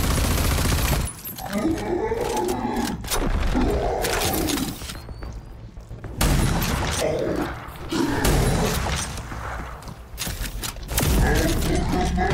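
Shotgun blasts ring out during a Rage 2 firefight, several loud booming shots spaced a few seconds apart amid clanking and impact sounds, with someone speaking between them.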